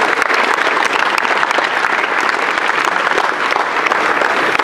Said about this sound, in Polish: Tu proszę o brawa dla rodziców.